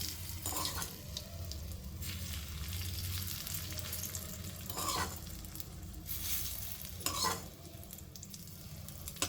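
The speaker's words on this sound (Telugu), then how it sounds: "ఇప్పుడు తాలింపు దీంట్లో వేసేస్తున్నా నేను" Hot tempering poured into wood apple chutney sizzles softly and steadily, with a few brief clinks and stirring sounds of utensils against a container, fairly quiet throughout and with no talking.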